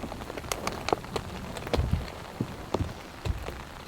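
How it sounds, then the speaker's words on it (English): Heavy rain drums on a tarp shelter during a big storm, with dense steady patter broken by sharp, loud drips and splats landing close by. "sitting underneath a tarp out in the rain."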